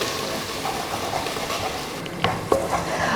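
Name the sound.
onion with ginger-garlic paste sautéing in a pan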